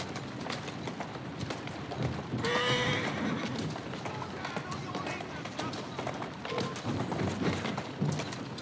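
Rapid hoofbeats gallop along steadily in Assassin's Creed Syndicate while a horse gives a loud whinny partway through; a voice talks over the running.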